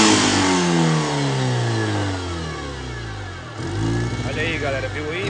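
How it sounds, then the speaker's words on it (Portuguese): Car engine revved up hard to full throttle during a workshop check of a faulty TPS throttle position sensor, a loud rising roar with climbing harmonics that dips and surges again near the end. "Agora eu vou acelerar até o último"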